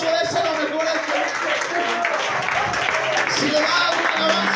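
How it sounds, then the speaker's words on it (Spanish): A church congregation applauds during an evening service sermon, a dense, continuous patter of clapping heard alongside voices. "Si le va a dar ese aplauso,"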